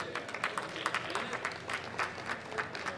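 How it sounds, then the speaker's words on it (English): Spectators at a junior world powerlifting championship give a fairly quiet round of applause, scattered individual claps blending into a modest crowd sound that holds steady for about three seconds. "Big round of applause for Victoria Vargas."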